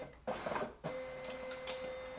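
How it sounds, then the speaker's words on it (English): A printer scanning a stack of pages one after another, its feed mechanism whirring steadily with a sustained motor tone after an initial burst of mechanical clatter, close and moderately loud. "the printer is taking page by page"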